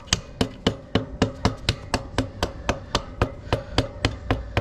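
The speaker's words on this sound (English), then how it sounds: "I'm gonna use the little hammer. There you go. I'm gonna tap it in." Small hammer taps end caps into the rear wheel of a Talaria or Surron electric dirt bike, about seventeen sharp, evenly spaced knocks at a brisk, steady pace, close and clear with no talk.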